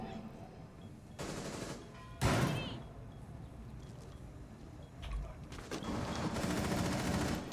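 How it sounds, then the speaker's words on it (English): Several bursts of rapid gunfire in the video game Rainbow Six crackle at a moderate distance, separated by quieter stretches, with a loud thump near the start. "We are hearing gunfire."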